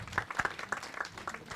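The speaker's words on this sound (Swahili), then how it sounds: "Tumpigie makofi mazuri." Scattered, fairly faint clapping from a gathered audience at a memorial celebration of life, a brief burst of uneven handclaps lasting under two seconds.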